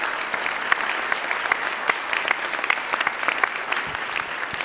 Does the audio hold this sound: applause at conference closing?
yes